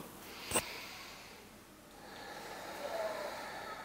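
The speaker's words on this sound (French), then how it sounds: "je me redresse et j'inspire quand j'en ai envie" During a Manduk Kriya yoga breathing exercise, one short, sharp nasal sniff is followed after a pause by a slower, soft inhalation, quiet and close.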